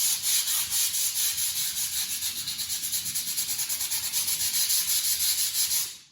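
Sandpaper rubs back and forth by hand over a piece of wood for a seed bird feeder, a steady rhythmic scratchy rasp of quick strokes, close and continuous, fading at the end.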